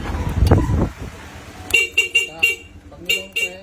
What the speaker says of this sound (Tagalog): Ito naman po yung switch ng dual horn.